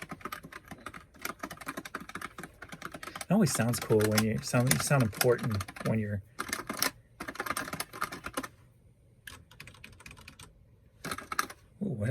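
Calculator buttons are pressed in quick, uneven bursts of small plastic clicks, up close, with a person talking over part of the tapping.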